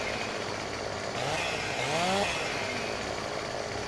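Chainsaw cutting a tree branch in Farming Simulator 15, a continuous buzzing engine drone that swells slightly midway, heard fairly close and steady with no pauses.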